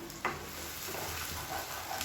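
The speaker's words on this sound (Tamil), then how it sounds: "இப்போ இதை எண்ணெயில் நல்லா வதக்கி விட்டுக்கலாம்." Ground masala paste made with onions frying in hot oil while being stirred, a faint, continuous sizzle with occasional soft scraping of the spoon, and no talking.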